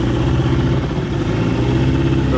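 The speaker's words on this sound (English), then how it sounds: "We got the motors running again." Boat outboard motors running steadily on the water off Colombia, a continuous close, loud engine drone with a low rumble and no talk.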